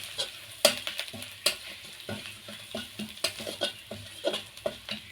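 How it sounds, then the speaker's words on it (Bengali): Grated ginger sautéed in a pan, with repeated scraping and tapping stirring strokes in an irregular rhythm over a soft sizzle of oil, close but fairly quiet, with no voices. "আদাটা একটু এইভাবে কষিয়ে নিচ্ছি।"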